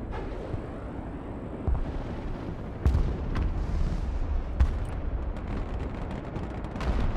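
Abrams tank cannon fire in the war game Broken Arrow, a few heavy booming reports with rumbling tails scattered over a constant roar of battlefield noise.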